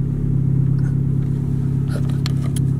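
A 1997 Honda Civic engine hums steadily at close range as the car pulls away, a low even drone with a few faint knocks and clicks over it.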